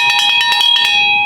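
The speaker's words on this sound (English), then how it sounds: "If I ring the bell." A bell clangs repeatedly in a mine crib room, about eight bright metallic strikes in quick succession with ringing tones that linger after the last hit, loud and close with no talking.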